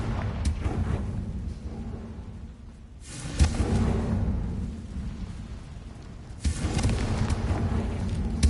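A Confringo blast spell from Hogwarts Legacy erupts in two loud, booming bursts, each swelling into a rumbling, thunder-like roar that trails off, with the second blast landing several seconds after the first.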